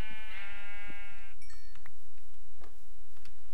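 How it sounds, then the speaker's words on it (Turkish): A sheep in Minecraft gives a long, wavering bleat, followed by a few short digital chimes and small clicks over a steady low hum. "Şimdi koyun sesleri geliyordu"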